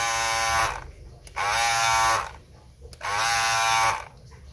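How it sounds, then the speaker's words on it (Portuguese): An Andis Master Cordless hair clipper with a faulty on-off switch contact, its loud close buzz cutting in and out three times as the motor starts, runs briefly and drops away. "O problema dessa máquina é que apresenta um mau contato."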